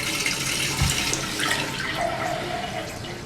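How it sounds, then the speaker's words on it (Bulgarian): Cold water is poured from a glass onto a person's head, giving a steady, close rushing splash that lasts a few seconds. "Ето чашата, която трябва да се напълни със студена вода и да изсипа на главата ми."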